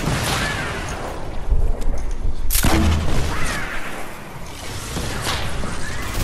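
Rocket blasts and gunfire in the video game Fortnite: a loud boom near the middle rolls into dense, continuous battle noise with sharp cracks and whooshes, no talking.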